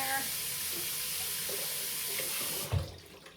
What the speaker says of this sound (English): I'm gonna rinse my hands again.